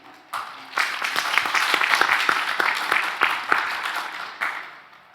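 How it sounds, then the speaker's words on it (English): A conference audience breaks into a round of applause at a regional internet community meeting, dense overlapping claps starting abruptly and holding steady for several seconds before easing off. "just a round of applause, please."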